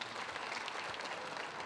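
An audience at a Lumbee cultural presentation applauds Miss Lumbee, a dense, even wash of clapping hands sustained throughout.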